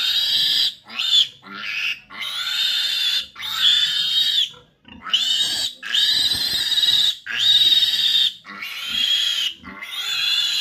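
A piglet squeals over and over, shrill high-pitched cries in quick bursts with short pauses between them, close and fairly loud, with no clear talking.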